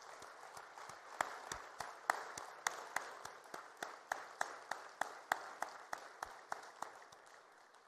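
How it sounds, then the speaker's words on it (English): An audience at the African Development Bank annual meetings in Nairobi applauds together in rhythmic unison, with about two dozen evenly spaced claps over a soft crowd wash. The sound is moderately distant and fades slightly at the end. "let's give one more big round of applause to the President"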